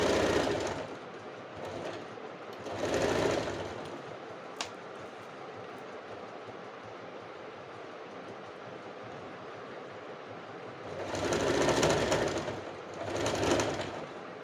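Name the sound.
sewing machine stitching an A-line kurti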